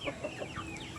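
A Rhode Island chicken gives a few quick, soft clucks in a short burst, fairly faint and heard on its own.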